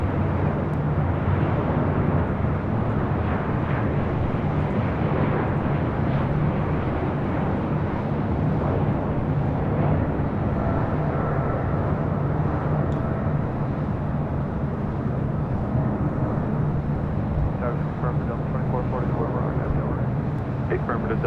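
A Southwest Airlines Boeing 737-800 in California One livery lands at LAX, a loud continuous jet roar and rumble that holds steady throughout, with voices talking over it.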